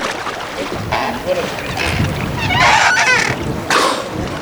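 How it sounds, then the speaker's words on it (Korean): A boat engine drawing steadily closer across open water toward a sea pen, its hum building in loudness amid wind and splashing, with the surging noise swelling near the end. "점점 다가오는 뱃소리"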